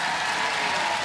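A dense wash of applause from a Robot Wars arena crowd, steady and loud throughout the short burst.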